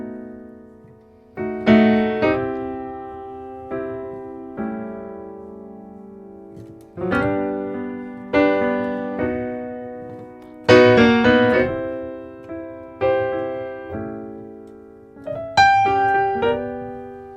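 Keyboard part played mostly with the right hand, the left hand adding octaves below the top melody note; separate chords and phrases sound in bursts that decay between them, clear and alone with no voices.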